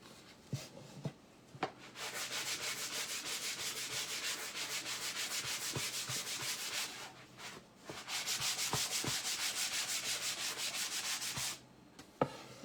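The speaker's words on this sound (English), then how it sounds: "I'm gonna sand this just real quick" Sanding a wooden squirrel-themed fall sign by hand, steady rhythmic rasping strokes in two long bursts separated by a brief pause, with a few light knocks and taps at the start and end.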